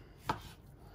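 A single sharp knife chop on a cutting board, brief and close, in a quiet room.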